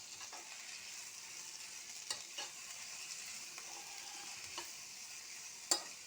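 Onion, tomato and curry leaves frying in a pan, a steady soft sizzle throughout with occasional brief clinks and scrapes of stirring, no voices.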